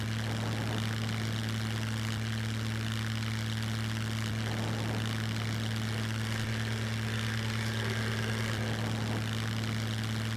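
A propeller airplane coming in to land in the survival video game SCUM, its engine a steady, continuous droning hum with a strong low tone, unbroken throughout.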